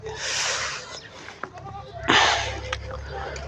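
Goats and fifteen-day-old goat kids bleat on a goat farm, including a sharp cry partway through, with people talking nearby.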